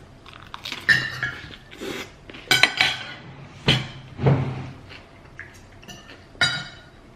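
Cutlery clinks sharply against a plate as avocado toast on crispy garlic bread with runny egg yolk, tomato and radishes is cut, with soft chewing and scraping between several separate metallic taps.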